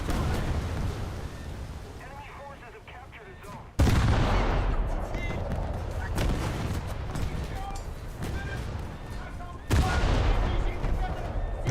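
Ship guns fire in a naval video game during a burning-island battle: two heavy, sudden booming volleys burst out over a constant rumbling wash of battle noise.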